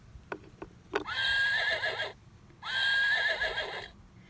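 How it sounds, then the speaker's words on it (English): A horse neighs twice, two loud, long whinnies separated by a short pause, preceded by a few sharp clicks, clear and close with no talk. "What does the horse say?"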